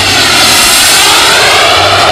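Turbine engine of an RC scale model SR-71 Blackbird jet, a loud, steady, close-up roaring whine with a broad rushing hiss that holds constant throughout.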